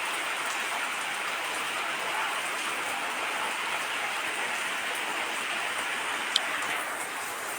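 Steady rain falls during the rainy season, an even broadband hiss that carries unbroken throughout with one brief faint tick near the end and no voices.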